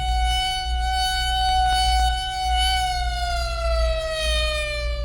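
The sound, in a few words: air base noon siren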